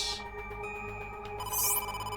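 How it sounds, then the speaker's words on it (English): A telephone rings in the video game AI: The Somnium Files, two bright electronic trills standing out at the start and again near the end over a steady synthetic game soundtrack. "And there's the phone call."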